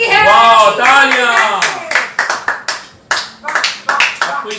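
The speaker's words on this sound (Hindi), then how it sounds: "वाह, तालियां।" At a comedy show, a few people clap in scattered bursts of sharp hand claps that follow a voice speaking over the opening, the claps close and uneven rather than a full crowd.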